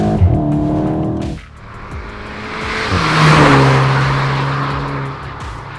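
2021 VW Golf 8 GTI with an Eisenmann exhaust revving while stationary, a loud close engine rising and falling through short throttle blips with a deep tone and a raspy climb.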